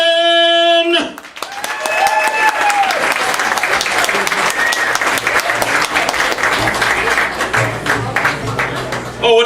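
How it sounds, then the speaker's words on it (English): A comedy club audience breaks into loud, sustained applause and cheering for a comedian's entrance after a brief musical sting, dense clapping continuing close and full throughout. "Please give it up for Mr. Mark"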